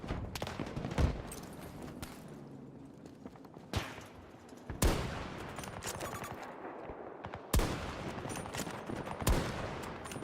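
Gunfire in the video game Battlefield: repeated loud shots and short automatic bursts spaced through the scene, sharp cracks with echoing tails over background battle noise.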